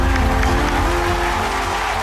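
An audience on a Kannada TV game show claps loudly and continuously, a thick, even burst of applause with faint cheering.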